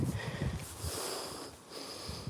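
A dog sniffs outdoors on a wet morning walk, with short snuffling bursts near the start and more scattered sniffs later, faint against a steady outdoor background.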